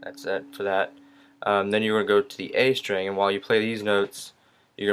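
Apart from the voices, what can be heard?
None of the usual background noises is heard.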